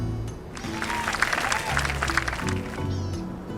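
A crowd claps in the video game My Time at Sandrock, celebrating the rebuilt bridge. The burst of applause swells and holds for a few seconds over low, steady background music.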